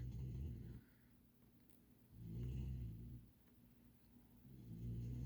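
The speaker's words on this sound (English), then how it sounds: "I don't know if y'all can hear him snoring, but Charcoal is having a good old snore." A dog snores softly in slow, rumbling breaths, three long low inhales spread across the quiet room.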